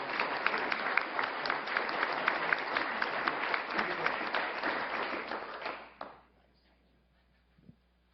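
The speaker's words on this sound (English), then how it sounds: "let's give them a round of applause" Dense audience applause at a city council meeting, steady and fairly loud for about six seconds before it stops abruptly, leaving near silence with a faint knock.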